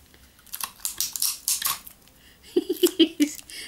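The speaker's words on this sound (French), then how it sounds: "je mets un morceau de papier collant" A few quick, rasping rips of adhesive tape pulled off a roll, close by, followed by a short run of light clicking taps.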